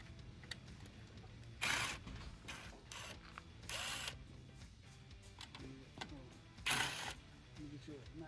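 A power driver with a T15 Torx bit whirs in short bursts and ratchets as small screws come out of a Jeep Wrangler JKU headlight area with the grill removed, amid clicks and handling noise, with a voice talking faintly.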